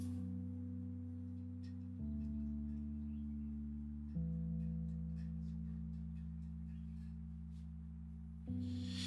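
Neo Soul Suitcase electric piano plays a sustained chord progression, warm held chords changing roughly every two to four seconds, clear and alone with no voices.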